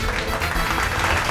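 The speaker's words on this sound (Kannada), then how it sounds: "ಚಪ್ಪಾಳೆ ತಟ್ಟೋದ್ರ ಮೂಲಕ ಆಕಿನ ವೆಲ್ಕಮ್ ಮಾಡಿ." Audience applause at a televised Kannada stage show welcoming a young girl for a solo performance, dense steady clapping throughout with no talk over it.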